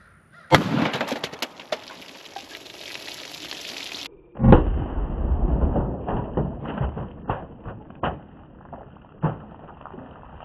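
Sharp 9mm pistol shots ring out, one loud report followed by a series of irregular, closely spaced cracks outdoors, each with a short echoing tail.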